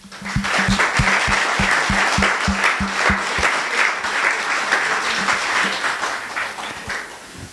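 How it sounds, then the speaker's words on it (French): A church audience breaks into loud, sustained applause that fills the space evenly, with a steady rhythmic clapping pattern standing out early on before blending into the general crowd noise. "On peut quand même applaudir ?"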